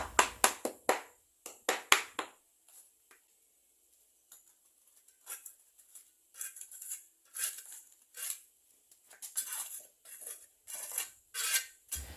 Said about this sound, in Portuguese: Com um pedaço de madeira, concluo a compactação batendo na massa.